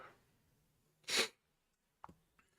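A single sharp sneeze breaks a quiet room close to the listener, followed by a brief faint snort or breath.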